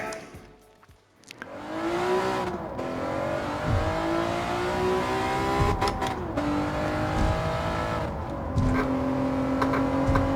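A Honda NSX-R in Gran Turismo 7 revs hard through its gears, with repeated rising engine wails and brief dips at each shift, loud and close with no voices.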